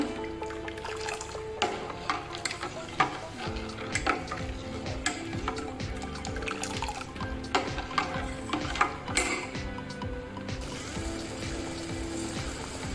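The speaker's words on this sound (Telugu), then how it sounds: "పంచదార కరిగిపోయింది. ఇది పాకం వచ్చేదాకా వెయిట్ చేద్దాం. తిప్పుతానే ఉండండి." Melted sugar syrup for balushahi is stirred in a pan. A spoon clicks and scrapes irregularly against the metal over a soft, bubbling simmer, with no speech.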